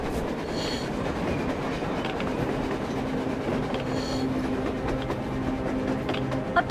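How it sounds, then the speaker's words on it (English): Train rolling past on the surface in the Metro Exodus video game: a continuous loud rumble with rhythmic clickety-clack of wheels and faint metallic squeals, steady and close, with no voices. "A damn train on the surface!"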